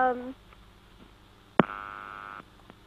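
A telephone line tone sounds on a radio call-in show after a caller is cut off: a sharp click, then a steady electronic tone for under a second, following a brief voice.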